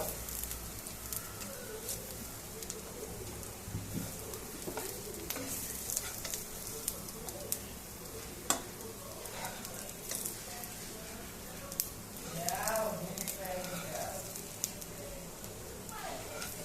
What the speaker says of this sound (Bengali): পেঁয়াজ রসুন একসাথে ভেজে দেখালাম